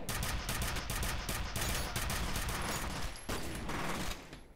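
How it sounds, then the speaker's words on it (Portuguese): Rapid repeated shots from a staple gun in the shooter F.E.A.R., a loud, dense volley of sharp cracks firing in quick succession with a brief gap before resuming. "A metralhadora acabou, então vai a arma de grampo mesmo."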